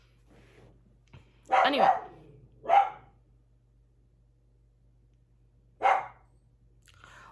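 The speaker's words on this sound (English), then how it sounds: "He was barking at someone walking outside." A dog indoors barks several times at someone walking past outside, with three loud, fairly close barks and a pause before the last one, and a quiet voice speaking faintly in the background.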